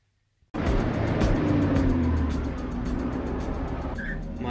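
A 1982 Porsche 928 starts up abruptly after silence and drives with a loud, steady engine rumble close by, holding an even roar throughout.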